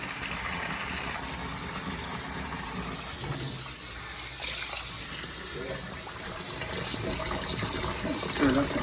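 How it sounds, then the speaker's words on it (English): Hot water, two liters of it, gushes steadily into the fermenter of a Coopers home brew lager kit, a continuous rushing pour that swells slightly toward the end, with a voice speaking faintly over it. "we're gonna add 2 liters of hot water"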